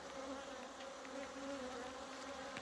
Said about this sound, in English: Yeah, this thing's full of bees.